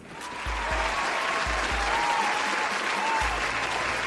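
Applause from a crowd rises after a brief quiet start and holds as a steady, fairly loud wash of clapping, with a low thumping noise and faint voices beneath it.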